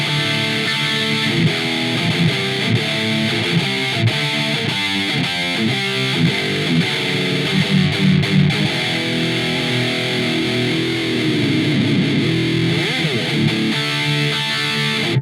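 A Dean ML 79 metal electric guitar plays through heavy distortion, with dense, sustained, saturated chords and riffs that run loud and continuous for the whole stretch, with no talking.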